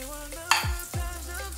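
Onion and bell pepper tipped into a hot pan already holding garlic, hitting with a sudden loud burst of sizzle and a couple of quick stirs, then settling into a steady low frying hiss.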